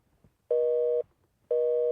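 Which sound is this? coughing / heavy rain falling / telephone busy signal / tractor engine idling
telephone busy signal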